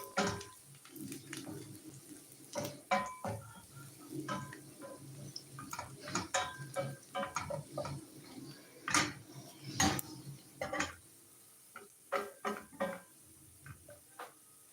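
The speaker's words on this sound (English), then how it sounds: "So just keep on stirring your onions." Onions are stirred in a pan with irregular light clinks and scrapes of a utensil against the metal, fairly quiet and close, with no voices.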